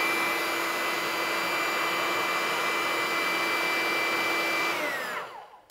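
Small cordless handheld vacuum cleaner with an LED light running alone with a steady high-pitched whine, then switched off so the motor winds down to silence at the end.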